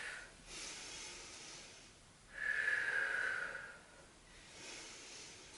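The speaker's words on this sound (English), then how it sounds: "Big deep breaths in. Inhale nose and exhale mouth." A person doing yoga takes deep, slow breaths, drawing air in through the nose and blowing it out through the mouth; one strong, close, audible breath stands out between softer breathy passes, with no talk.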